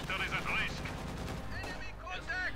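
Gunfire and explosions crackle in a Company of Heroes 2 1v1 match, dense bursts of shots and blasts beneath a commentator speaking over the battle.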